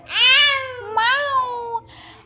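A voice imitates a cat's meow during play at home: two drawn-out, whiny meows, one after the other, fairly close and clear, with a softer breathy sound trailing after.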